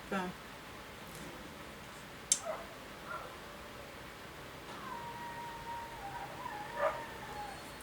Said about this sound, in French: C'est le chien de la voisine